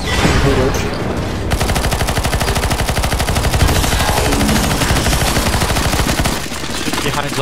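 Rapid automatic gunfire in the zombie mode of CS:GO rattles in a fast, steady stream for several seconds, loud and close, with a brief pause near the start.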